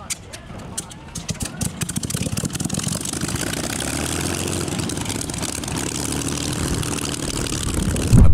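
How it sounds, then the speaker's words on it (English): A Supermarine Spitfire piston engine starts with irregular coughs and pops that build into a loud, steady propeller roar, with a sharp burst at the end. "Supermarine Spitfire actually spitting fire during engine start."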